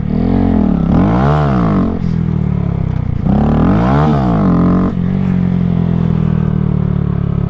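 A motorcycle engine revs loudly and close during a wheelie, rising and falling twice as the throttle opens and snaps shut, then holds a steady drone.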